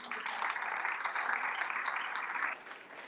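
Audience applause at a hula competition at a Kauai beach resort, a dense, even wash of clapping that drops off slightly near the end, with no voices over it.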